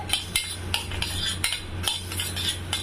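A spoon stirs rava and milk in a pan, with rhythmic metallic scrapes and taps against the pan repeating every half second or so, close and fairly quiet, no voices.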